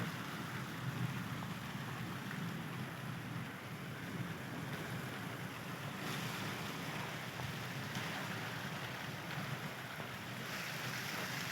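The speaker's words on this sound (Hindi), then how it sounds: "बहुत ही तेज झालाबारी शुरू है" Heavy hailstorm with torrential rain and strong winds in Chowki, Samani Valley, Azad Kashmir: a steady, dense roar of hail and rain pounding surfaces without pause, loud and continuous throughout.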